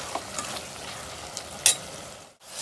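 Cabbage and mutton fry in a pan, Hyderabadi style, with fresh mint and coriander added, making a soft continuous sizzle broken by a few light clinks of stirring and one sharp scrape near the end.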